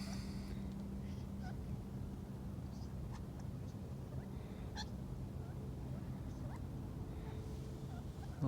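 A flock of birds calls beside a roadside, with scattered honking, goose-like squawks repeating at irregular intervals over a steady background rumble, moderately distant.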